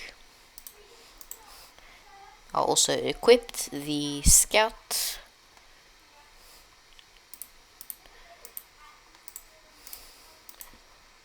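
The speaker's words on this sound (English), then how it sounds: "Ignore my very bad clicking." Sharp mouse clicks tick away in Tower Defense Simulator, scattered singly and in small clusters, with a voice talking briefly partway through.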